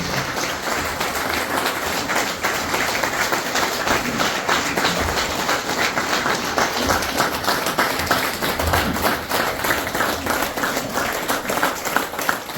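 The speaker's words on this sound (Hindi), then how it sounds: "जोरदार तालियां दीजिए" Sustained applause from a live audience at a direct-selling seminar welcoming a speaker onto the stage, dense steady clapping throughout with faint voices underneath.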